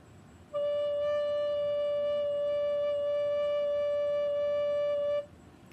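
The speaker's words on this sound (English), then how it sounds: "So practice getting that nice low D on your recorder" A single soft, steady recorder note, a low D blown gently with warm air, sounds for several seconds, pure and low with gentle overtones, alone against quiet room noise.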